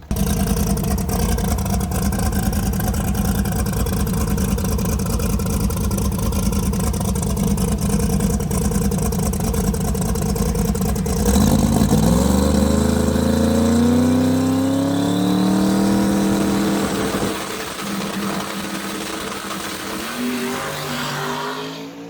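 A car on prototype tires with low pressure roars steadily, then revs hard and takes off, its engine note climbing rapidly before fading slightly as it pulls away.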